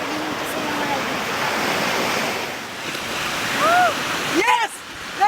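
Sea waves wash in a continuous roar of surf with wind buffeting the microphone, loud and close, while a few short voices cut in near the end.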